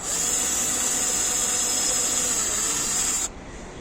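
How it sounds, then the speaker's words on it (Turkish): A power drill bores a hole into the housing of a Renault Clio 4 LED headlight, a steady high whine and hiss lasting about three seconds before cutting off abruptly, close and loud with no talk. "Evet delme işlemine başlıyoruz."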